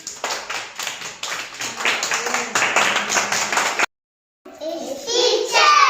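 Children clap together in a classroom, a run of brisk, uneven claps nearby, broken by a brief silence before more clapping and children's voices follow.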